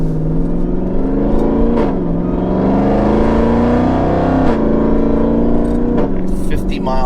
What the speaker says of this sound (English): let's take a drive down the street here, and we'll turn around, we'll come back